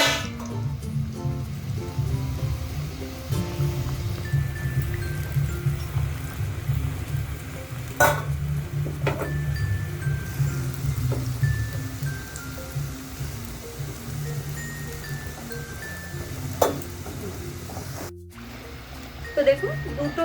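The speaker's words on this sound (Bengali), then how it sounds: "একইভাবে বাকি ব্যাচে আমি কচুরিগুলোকে ভেজে নিচ্ছি।" Potato-stuffed kochuri deep-frying in hot oil, a steady soft bubbling sizzle with occasional clinks and light handling noises, heard close throughout.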